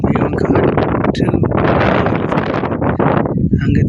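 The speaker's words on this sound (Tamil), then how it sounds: "பகுதி மிகவும் காற்று" Strong wind on a rural tarred road, buffeting the microphone loudly in continuous gusty roars with no clear pauses.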